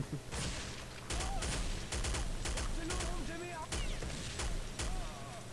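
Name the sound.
machine gun fire in the video game Counter-Strike: Condition Zero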